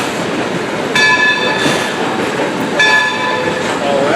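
A heritage train at the Steamtown National Historic Site rumbles loudly across Bridge 60 with a continuous close roar, overlaid by two brief screeching or tonal bursts from the wheels, with no voices.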